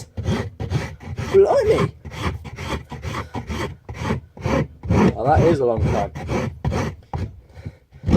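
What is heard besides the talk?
rasping a hidden-tang knife handle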